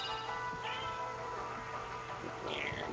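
A cat meows in the Kingdom Hearts 2 video game, with a couple of short, mid-pitched mews over a steady background of game music and ambience.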